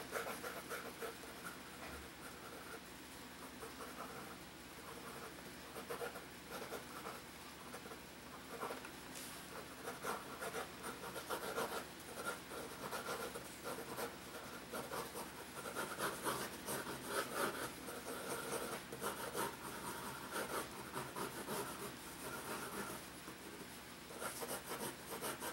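A pencil scratches and rubs across paper while sketching a loose, gestural comic figure, a close, continuous soft rasp of strokes that swells and fades in irregular bursts, with no talking.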